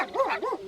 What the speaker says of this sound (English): I see you have brought your dogs too.